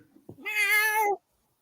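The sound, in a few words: tomcat meowing outside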